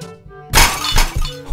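Glass jars shatter in a cat video game as they are knocked off, a loud sudden crash followed by crackling, tinkling breakage that fades over about a second.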